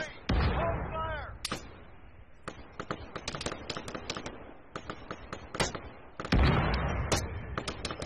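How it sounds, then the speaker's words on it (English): Artillery fire during a town assault in Arma 3 booms in heavy repeated blasts, with a rapid string of sharper gunshot-like cracks between them and voices speaking faintly in the background. "artillery on that location"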